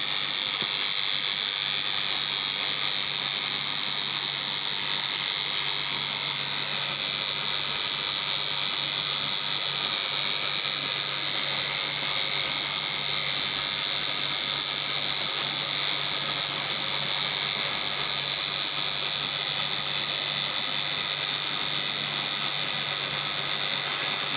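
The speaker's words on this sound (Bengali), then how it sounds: "পকাত করে সুতো কেটে দিচ্ছে।" A thread-cutting machine runs continuously, a loud, steady buzzing whir with a bright hissing edge that holds unchanged from start to finish with no talk.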